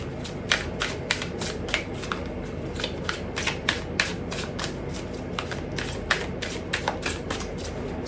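A water oracle card deck shuffled steadily for several seconds, with crisp rapid flicks repeating over a low constant background hum, close and without talk.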